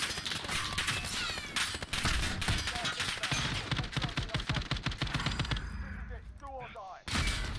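Dense, sustained gunfire in Call of Duty Warzone: rapid automatic bursts close and loud, almost continuous, then briefly thinning out before a final burst, with a voice talking over it.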